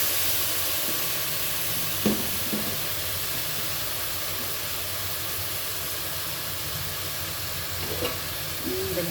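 Beef added to softened tomato frying in a pan, a steady close sizzle and hiss with a couple of brief stirring knocks.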